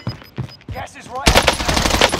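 Rapid, loud automatic fire from an XM4 rifle in the video game Warzone bursts in after a short stretch of quieter game sounds and speech, then keeps going as a dense, sustained stream of close shots.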